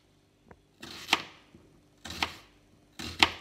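A knife slices through onions into strips on a cutting board, three distinct cuts each opening with a crunchy rasp and ending in a sharp tap on the board, close and clear with no talking.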